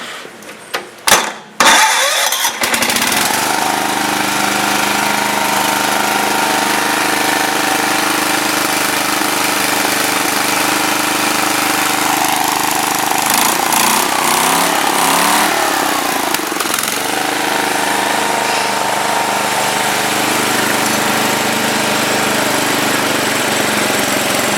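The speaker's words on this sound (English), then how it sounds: "it runs pretty good for a Tecumseh, and I'll do a startup on it" An Ariens rear-engine riding mower with a warm Tecumseh engine cranks briefly in a few uneven bursts, then catches and runs loud and close at a steady idle, with a slight change in tone partway through.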